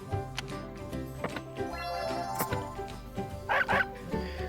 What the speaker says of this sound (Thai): น้องเห่าฮ่องฮ่องฮ่องฮ้อง